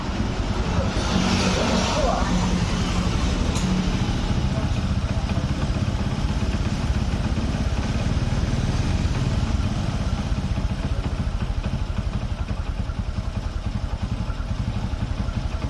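A Honda Supra X125 motorcycle with a weak, noisy clutch idles loudly and steadily up close, its engine chugging evenly throughout while someone talks over it.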